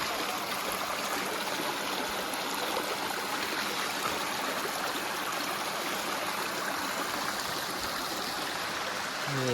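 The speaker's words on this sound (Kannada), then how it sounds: "ನೋಡಿ ಹರಿತಾ ಇದೆ ನೀರು" Water rushes steadily at Muthyala Maduvu falls near Anekal, a continuous broadband roar of flowing stream, close and even throughout with no talk.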